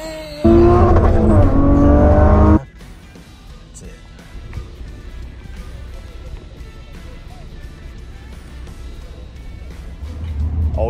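A race car launches at a drag race start in a loud, close two-second burst of engine roar that cuts off abruptly, leaving a quieter rumbling interior drone that swells again near the end.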